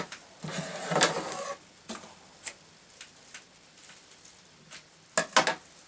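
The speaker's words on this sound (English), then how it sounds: "Sew quite close to the edge, because this is only a tacking or a basting stitch." A sewing machine runs a basting stitch close to the edge of fabric holding a ribbon, with a short whirring burst followed by intermittent ticking runs and quieter mechanical clicks.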